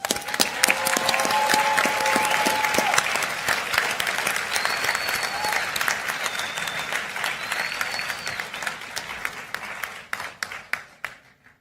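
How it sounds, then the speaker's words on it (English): Graduates and guests at a business school commencement ceremony give a long round of applause, a dense hall-wide clapping that gradually thins into scattered individual claps and fades out, with a few faint whistles and cheers mixed in. "Please join me in another round of applause for our graduates."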